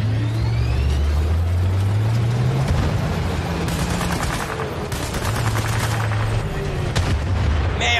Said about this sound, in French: Nos troupes subissent des tirs d'armes lourdes, d'armes légères et de roquettes.